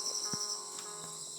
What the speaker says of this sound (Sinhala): රැහැයියෝ කෑ ගහනවා.